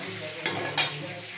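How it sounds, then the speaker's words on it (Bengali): Potatoes fry in a pan right after fish heads for a cabbage and small-fish chorchori, giving a steady close sizzle with two brief louder scrapes of stirring. "আমি আলুটাকেও ভালো করে ভেজে নেব"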